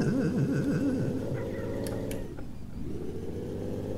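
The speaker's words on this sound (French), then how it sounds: "Le moteur commence à fatiguer." A car engine in the game Revhead drones and labors, its pitch wavering and dipping as it strains, steady and fairly close.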